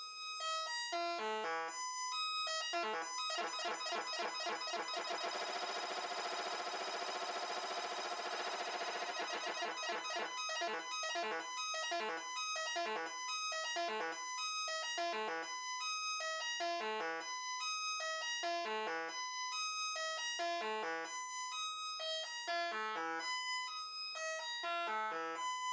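Befaco EvenVCO eurorack oscillator playing fast, rapidly stepping synth tones with bright harmonic overtones, a dense sustained wash in the middle giving way to quick repeating pitch sweeps, steady and loud throughout with no voices.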